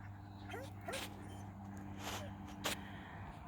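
A few short dog yips and whimpery barks pop out at scattered moments over a steady low background hum.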